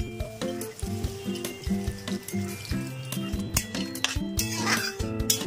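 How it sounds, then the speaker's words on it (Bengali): Water poured into well-fried masala in a pan sets off a soft hissing sizzle with faint liquid bubbling, heard close and under a tonal background sound. "আমার মশলা খুব ভালো মতো কষা হয়ে গেছে, এর মধ্যে দিয়ে দেবো আমি এবার জল"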